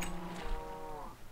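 A Minecraft cow gives a single soft, drawn-out moo, heard faintly and alone over a quiet background.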